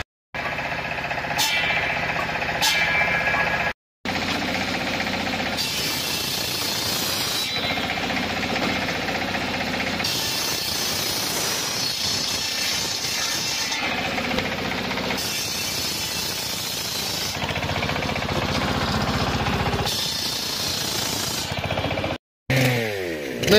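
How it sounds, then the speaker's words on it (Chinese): A circular saw blade driven by a four-wheeled tractor cuts firewood in a rural village, a loud, continuous grinding roar of engine and blade that persists close by, with only brief breaks. "用轮锯接的，用那种四轮车，就拖拉机带着那种轮锯片接的"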